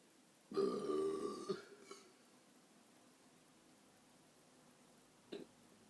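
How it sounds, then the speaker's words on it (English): A loud, drawn-out burp lasting about a second, close up, from someone drinking energy drinks during a no-burping challenge, followed by a small second belch a few seconds later in an otherwise quiet room. "I need to burp loads."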